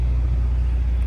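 A 1965 Chevrolet Corvette coupe runs with a deep, steady low rumble just after being fired up, the idle heard close and continuous without any talk.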